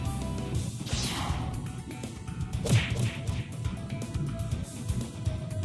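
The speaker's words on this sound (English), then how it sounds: "His massive fist finds its mark with an earth-shattering force" In a video game, a massive fist swings through the air with a whooshing sweep and lands in a sharp, heavy smack near the middle, followed by a rumbling low backdrop.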